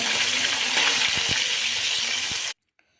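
Steady loud sizzling of catla fish pieces frying in hot oil, with a few soft clinks, cutting off abruptly near the end.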